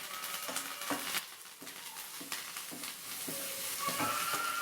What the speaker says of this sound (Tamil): இதில் வெங்காயமும் கருவேப்பிலையும் ஆட் பண்ணுறாங்க.